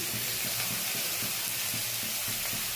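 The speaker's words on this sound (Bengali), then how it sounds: "গাজর আর বিনস তেলে দিয়ে দিলাম" Carrots and beans fry in hot oil with a constant bright sizzle that fills the scene, close and even, with no talking.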